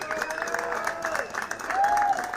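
Modest crowd cheering and clapping from spectators at a boys' varsity soccer game, a soft, steady wash of noise with a few whistle-like tones rising through it.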